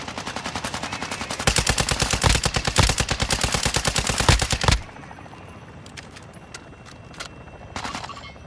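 Fast, loud automatic weapon fire in Call of Duty Warzone DMZ, a sustained rattle of rounds for several seconds, then quieter ambience with a few distant shots.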